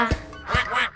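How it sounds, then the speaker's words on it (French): A duck quack in a French children's nursery rhyme, three short honking bursts spaced evenly across a second, loud and close, blended with the sung melody. "Le petit canard, canard,"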